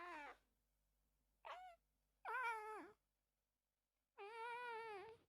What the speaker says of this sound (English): The meowing of my kitty.